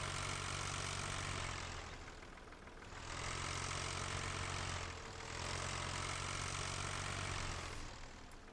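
A tractor idles in Farming Simulator 15, giving a steady, close mechanical rumble and knock that swells and dips in three long cycles, with no other sounds.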